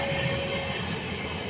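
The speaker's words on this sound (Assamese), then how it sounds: "পেচেঞ্জাৰ ট্ৰেইনখন 3:30 বজাত ধেমাজি চাইডে যায়।" A passenger train bound toward Dhemaji rolls past close to a house, a steady, loud broadband rumble with faint rail clatter that holds evenly throughout.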